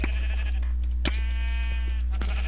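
Sheep in a video game bleat loudly and close up, one drawn-out wavering bleat in the middle flanked by shorter calls, over a constant low hum.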